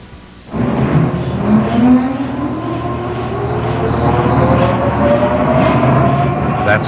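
A Lima generator starts up and runs loud and steady with a droning engine hum and slowly rising whine, close and unbroken after the start.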